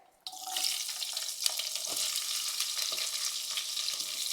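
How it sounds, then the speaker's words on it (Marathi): Chopped onion drops into hot oil with whole spices for a brinjal pulao tempering, bursting into a loud, close sizzle after a brief quiet start, then frying steadily with faint stirring scrapes. "आता आपल्याला ह्यात कांदा टाकायचा आहे."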